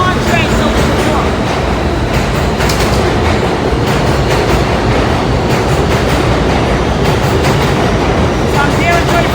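A train rolls past close by, its loud, continuous rumble and clatter of rail cars filling the whole stretch, with some speech-like sound faintly mixed in.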